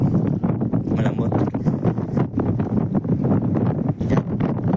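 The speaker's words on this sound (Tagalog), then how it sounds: "Medyo mahangin ang ating pwesto." Gusty wind buffets the microphone at an outdoor fishing spot, making a constant rough rumble with rising and falling gusts, and voices faintly underneath.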